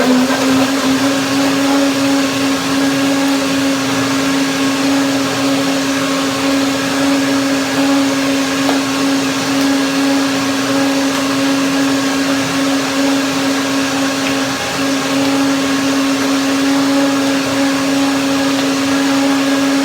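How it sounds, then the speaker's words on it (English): A blender whirs steadily through a hazelnut, apricot and banana smoothie, its loud motor hum constant and unbroken from start to finish with no voices over it. "Blender dance."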